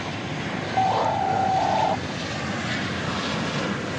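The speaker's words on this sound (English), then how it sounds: "St. Paul, American Flight 2954. 737-800 model, of which we see a lot here." Steady engine roar of an American Airlines Boeing 737-800 at Dallas/Fort Worth airport, with a brief louder tonal whine rising above the broad rumble for about a second before settling back, no voices.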